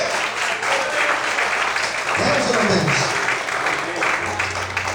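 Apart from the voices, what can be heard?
church congregation applauding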